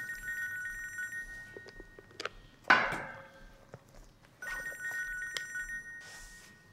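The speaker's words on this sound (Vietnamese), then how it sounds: "Sao mẹ không nghe điện thoại đi ạ?" A telephone rings indoors with a repeating electronic trill in two bursts, broken in the middle by a clattering knock of wood or objects, moderately loud and without voices.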